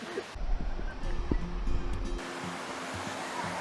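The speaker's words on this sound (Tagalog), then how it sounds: "relaxing kayo ang tingog sa tubig ba?" Water flowing at Hagimit Falls, a waterfall on Samal Island, makes a steady rushing hiss under outdoor noise, with brief wind buffeting and murmured voices early on.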